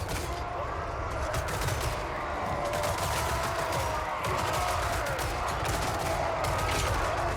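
High-tier Dwarf artillery pieces firing in a Total War: Warhammer 3 battle, a dense, loud, continuous wash of booming shots and rumbling gunfire with no clear gaps.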